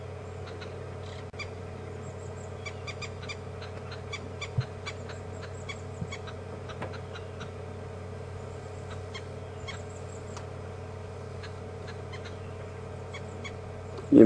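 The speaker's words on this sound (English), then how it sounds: "Those are green wood hoopoes, formerly known as red-billed wood hoopoes" Green wood hoopoes chatter in scattered bursts against a steady low hum of a safari vehicle at Djuma Game Reserve, the calls faint and distant.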